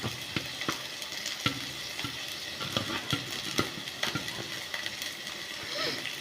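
Crushed garlic and green chillies frying in a pan, a soft steady sizzle with repeated sharp clicks of stirring, fairly quiet and close.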